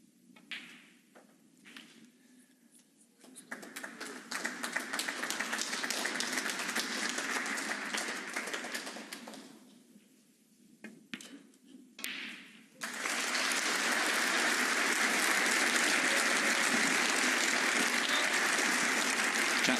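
Spectators at a snooker match in an indoor arena applaud a century break, with scattered claps building into sustained applause, a short lull, and then a louder, continuous round.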